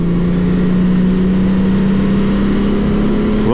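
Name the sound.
Honda Transalp 750 motorcycle accelerating on a circuit straight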